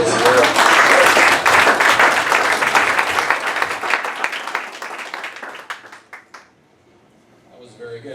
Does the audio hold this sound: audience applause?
yes